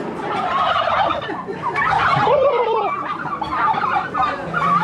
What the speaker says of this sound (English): Look at all these turkeys.